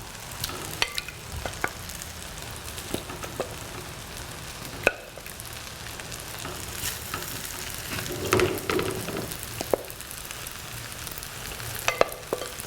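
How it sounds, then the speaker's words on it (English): Shrimp for fried rice frying and being stirred in a hot pan, a steady close sizzle with scattered sharp clicks and scrapes of the utensil against the pan, no talking. "Now we're going to add our shrimp."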